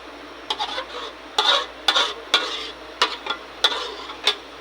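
Coconut milk being stirred into latik in a pan while cooking biko, with a spoon scraping in repeated short strokes over a faint steady sizzle, close and fairly loud, with no talking.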